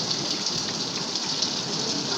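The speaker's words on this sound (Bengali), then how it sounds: "এদিকে তো বৃষ্টি হচ্ছে" Sudden heavy midnight rain falls continuously, a dense hiss of drops with occasional louder splashes, no voices.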